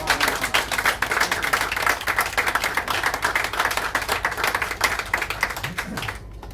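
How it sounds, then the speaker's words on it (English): Guests at a wedding reception clap for the bride, a steady, lively round of applause that carries on for about six seconds before cutting off. "Please give a round of applause for the bride."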